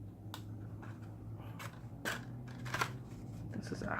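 Scissors snip through the cardboard of a Christmas box, giving several quiet, close cuts at irregular intervals over a low background hum.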